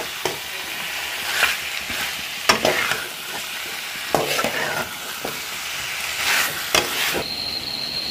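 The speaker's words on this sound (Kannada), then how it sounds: "ಇದನ್ನ ಚೆನ್ನಾಗಿ ಮಿಕ್ಸ್ ಮಾಡಿಕೊಂಡು ಮೂರಿಂದ ನಾಲ್ಕು ನಿಮಿಷ ತನಕ ಬೇಯಿಸ್ಕೊಳ್ತೀನಿ" Chicken and paneer masala being mixed and cooked in a pan, with a soft background sizzle and irregular sharp scraping strokes of a spoon against the pan, close up with no talking.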